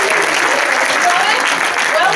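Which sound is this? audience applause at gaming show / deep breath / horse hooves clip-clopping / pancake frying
audience applause at gaming show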